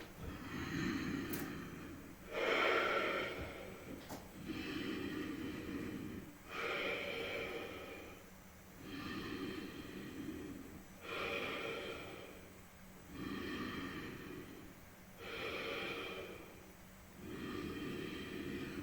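Slow, deep yoga breathing held in downward dog, audible inhales and exhales alternating in a steady rhythm of about five full breath cycles, close and fairly quiet.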